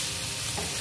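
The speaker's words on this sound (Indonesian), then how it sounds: "kita masukkan ayam yang sudah dimarinasi. Ini akan kita tumis sampai ayamnya matang." Marinated chicken stir-fries with softened onions in a pan, a brief close sizzle and crackle of frying that stays steady and fairly quiet for under a second.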